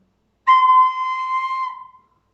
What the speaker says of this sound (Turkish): o ıslık sesini duydunuz.